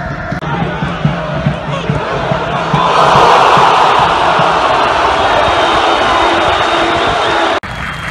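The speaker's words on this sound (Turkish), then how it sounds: "Taraftarlar Erkan Zengin tezahüratlarıyla" Football fans chant a player's name in a Turkish stadium during a Karagümrük versus Konya Anadolu Selçukspor match, a loud sustained roar of crowd voices that swells midway and runs under commentary.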